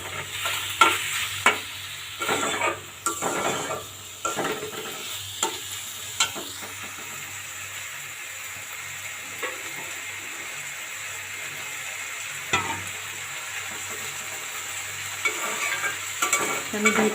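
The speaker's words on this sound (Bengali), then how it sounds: "তো ডালটা আমি 2-3 মিনিট কষিয়ে নেব।" Lentils for dal being stirred and sautéed in a pot for khichuri with pilaf rice, with repeated scraping strokes and a soft steady sizzle, close and fairly quiet, with no talking.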